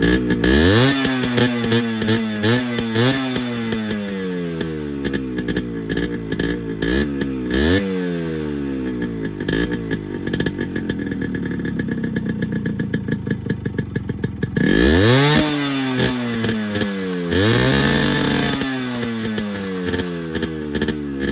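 Loud two-stroke buzz of a vintage Japanese-made Yamaha RX100 motorcycle running after a start, blipped through repeated rising and falling revs, with ragged crackling idle stretches between the throttle bursts, close to the listener.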